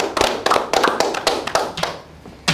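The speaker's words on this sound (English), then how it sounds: "clap on yourself" Scattered hand claps from a small group of competitors at a mechanics competition, irregular and close, sounding like loose sharp smacks that thin out before one final clap.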